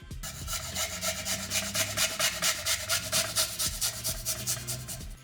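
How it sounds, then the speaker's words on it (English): Fresh garlic being grated for a marinade, a close rhythmic rasping scrape repeating in quick, even strokes for several seconds with no talk. "we'll start off by grating some fresh garlic"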